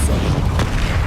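A Depulso spell goes off in Hogwarts Legacy as one sharp boom about midway, set over a dense, rumbling bed of game sound effects.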